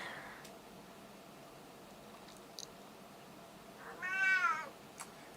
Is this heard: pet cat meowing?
yes